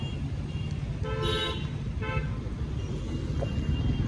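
A car goes by on a road near Alibag amid steady traffic rumble, with two short horn toots sounding nearby partway through.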